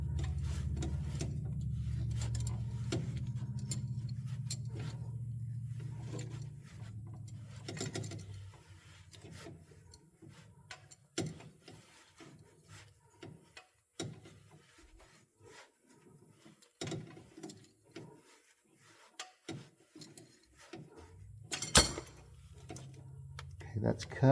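Cutting a vacuum line for the modulator on a 1932 Ford, with a series of short, sharp snips and scraping clicks in a quiet workshop after a low rumble at the start; no speech.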